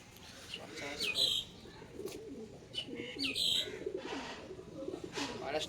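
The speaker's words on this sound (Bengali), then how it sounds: "আর এক জোড়া পায়রা আমার খুব পছন্দের পায়রা" Pigeons coo in soft, repeated low calls close by, mixed with a few sharper chirps and light flutters, while people talk intermittently in the background.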